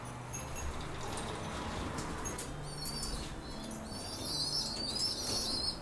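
Young pigeons coo and chirp on a pigeon farm while they are moved to a free-range shed. Faint, high cheeps rise late in the clip over a constant background hiss.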